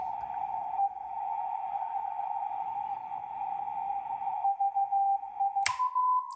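A steady test signal tone from a Rohde & Schwarz EB200 or EK070 radio receiver holds for several seconds, then a sharp click and a switch to a slightly higher, pulsing tone, no voices.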